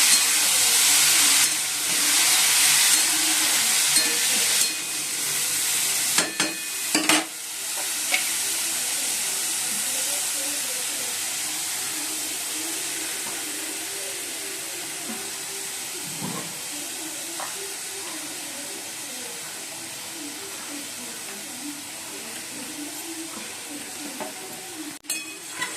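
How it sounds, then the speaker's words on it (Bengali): Mustard seeds and dried red chillies tempering in hot oil, a loud bright sizzle and hiss at first with sharp pops, settling into a quieter steady crackle, no talk. "সর্ষে আর শুকনো লঙ্কা ফোড়ন দিয়ে দিচ্ছি"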